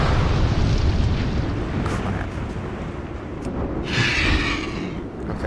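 Exploding mammoth in the video game World of Warcraft, a loud sustained rumbling blast with crackling debris and a brief burst of higher hiss near the end.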